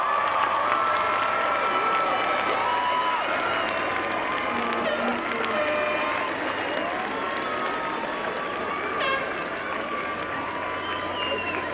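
Graduates at a university psychology commencement give their families a long, loud ovation, dense clapping mixed with crowd cheering and scattered whoops and voices, tapering only slightly toward the end.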